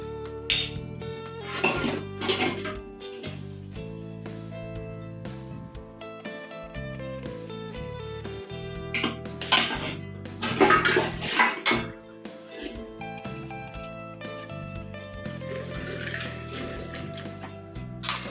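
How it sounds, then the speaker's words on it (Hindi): Dishes and utensils being washed by hand clink and rattle in repeated irregular bursts, with faint running water and steady background music. "तो चलिए शुरुआत करते हैं बर्तन धोने से।"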